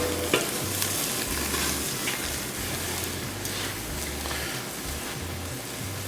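Steaks searing in a pan for a reverse-seared steak cook, a soft, continuous sizzle with faint crackles, moderately distant and without talk.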